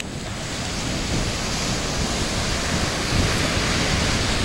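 Ocean surf rolls onto the beach at Negombo, Sri Lanka, as a loud, continuous wash of breaking waves mixed with wind buffeting the microphone, steady throughout with a slight swell near the end.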